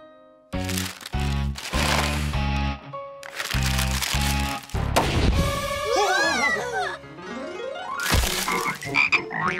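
Cartoon frogs croak in a rapid chorus of loud, rubbery ribbits in bursts, followed by warbling, sliding cartoon effects and a rising whistle.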